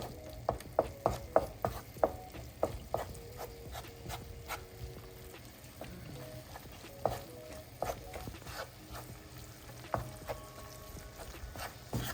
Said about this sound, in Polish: Fajnie jak ten koncentrat delikatnie się podsmaży.